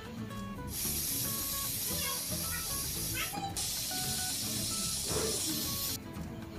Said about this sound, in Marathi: मीडियम फ्लेमवर मी 2 ते 3 शिट्ट्या करून घेणार आहे